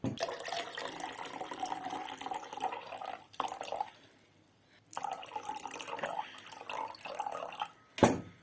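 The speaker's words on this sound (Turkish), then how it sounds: "Yani 180 gram su koyacağız." Water poured into a cool lime drink mixture, a steady close splashing and trickling stream that pauses briefly midway and resumes, then ends with a small clink.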